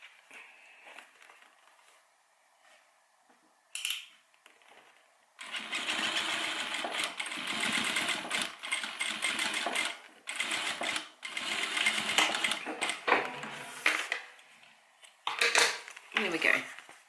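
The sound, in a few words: sewing machine top stitching a cabin bag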